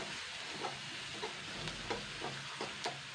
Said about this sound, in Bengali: সব দিয়ে দিলাম এবার নাড়াচাড়া করে নেবো